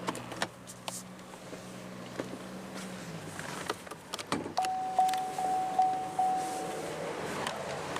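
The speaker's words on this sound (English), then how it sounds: "not before rolling down the driver's window" The driver's power window of a 2017 Cadillac XT5 Premium Luxury hums as its motor runs for a few seconds, then stops, followed by light clicks and a few soft bumps inside the quiet cabin.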